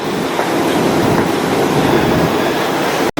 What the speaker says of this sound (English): The tunnel-like design of the subway station is so cool.